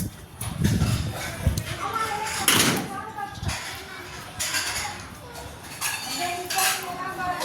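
Metal pots and dishes clatter and clink in a home kitchen in irregular bursts, with a few sharp louder clashes, while people talk over the clanging.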